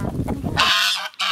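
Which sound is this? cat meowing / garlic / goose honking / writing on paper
goose honking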